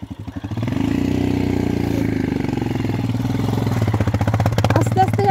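A motorcycle crosses a water stream on a high mountain road in Ladakh. Its engine drones loud and close, steady and then rising as the rider pushes through, with clattering near the end.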